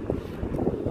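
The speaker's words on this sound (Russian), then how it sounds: "очень ветрено" Low, steady buffeting of strong evening wind against a microphone on a boulevard in Saratov, a continuous rumbling roar filling the whole moment with no voices.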